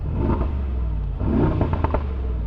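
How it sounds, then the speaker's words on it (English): A Brabus 900HP pickup truck engine revs twice in quick blips, a deep close rumble swelling and falling with no talk over it. "So normally in comfort mode, if I rev it, sounds good."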